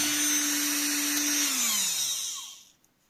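Small electric motor spun up to 17,000 RPM on 18 volts, a steady high whine that then spins down and fades to silence, with no talking.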